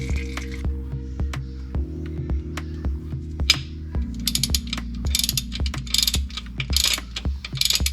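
Ratchet clicking steadily as it tightens the transmission drain plug on a Nissan 240SX (S13/S14), a close, rapid run of sharp metallic ticks with a steady mechanical hum underneath.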